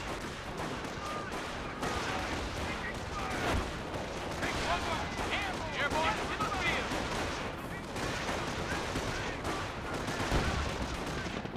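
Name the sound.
gunfire in the video game Company of Heroes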